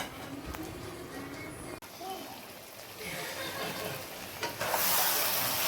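Chicken rolls curry simmering in a pan, giving a soft, continuous bubbling sizzle and faint hiss at low volume, with an occasional stir or scrape and a brighter hiss toward the end.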